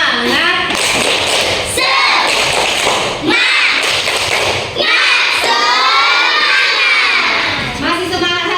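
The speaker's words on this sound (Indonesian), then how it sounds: "Tepuk semangat." Schoolchildren in a classroom perform the 'tepuk semangat' clapping cheer, loud rhythmic claps and thumps mixed with chanting and shouting voices, continuous across the whole stretch with brief pauses between phrases.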